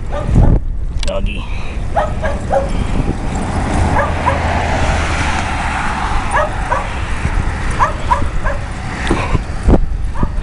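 A dog in a park gives a few sharp barks and yips at moderate distance, scattered through a stretch of outdoor noise while someone talks.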